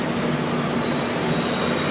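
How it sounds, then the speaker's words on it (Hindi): Bihar Sampark Kranti train standing at Gorakhpur railway station, a steady loud wash of rail noise and hiss, continuous and even throughout with no voices. "ट्रेन जो है गोरखपुर रेलवे स्टेशन पर खड़ी है"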